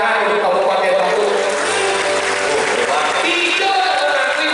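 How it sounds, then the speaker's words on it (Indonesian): A crowd applauds for Kabupaten Bandung, a dense burst of clapping that fills the whole short stretch, loud and close, with voices mixed in. "Makanya tepuk tangan untuk Kabupaten Bandung."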